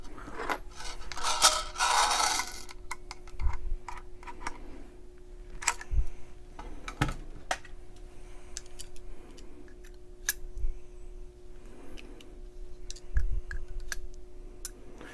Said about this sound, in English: And I will click that 2 clicks down.